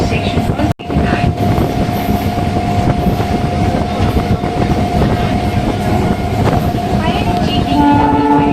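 Chennai suburban local train on the Beach–Chengalpattu line running steadily, a dense continuous rumble of wheels and carriage noise with a sustained horn-like tone, a brief dropout near the start, loud and close throughout.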